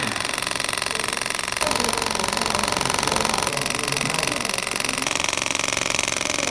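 A semi-permanent lip tattoo machine running steadily in a clinic, giving a continuous close mechanical buzz with an even, rapid pulse that shifts slightly in pitch partway through, with no talking.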